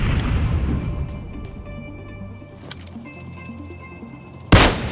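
Gunfire in the BGMI video game: a loud burst of shots opens the clip, followed by scattered single pops and in-game tones, then a sharp, loud blast near the end.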